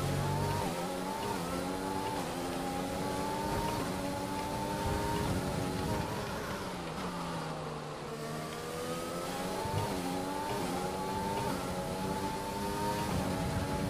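A high-revving Formula 1 car engine in the video game F1 2020 whines steadily, its pitch climbing and dropping through gear shifts, loud and continuous with no voices.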